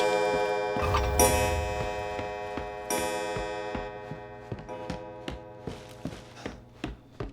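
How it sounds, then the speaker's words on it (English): A loud in-game clock in Resident Evil 7 ticks steadily, its even clicks standing alone under a sustained musical drone and a heavy impact at the start. "I'm gonna do the clock over here before Jack arrives"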